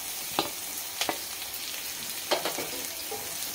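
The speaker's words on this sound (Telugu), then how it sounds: "ఉల్లిపాయలు వేసుకుందాం. పచ్చిమిరపకాయ కూడా వేసేసుకుందాం." Onions and green chillies sizzle and fry in hot oil, a steady close crackle with a few sharp stirring scrapes spaced through it.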